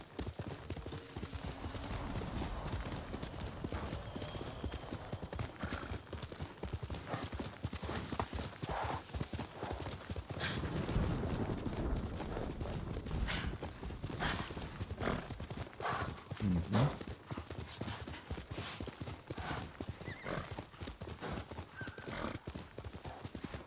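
Horse hooves clip-clop at a steady gallop in the Ghost of Tsushima video game, loud and continuous, with occasional whinnies and game ambience; no talking.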